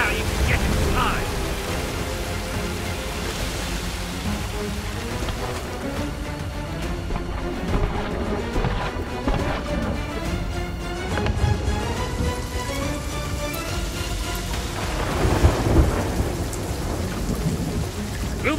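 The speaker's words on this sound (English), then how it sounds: "Calypso's lightning cracked the spire." A storm in the Sea of Thieves pirate game brings lightning cracks and heavy booming thunder over constant rain and surging waves, with voices talking throughout.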